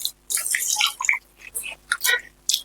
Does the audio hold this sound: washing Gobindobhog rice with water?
yes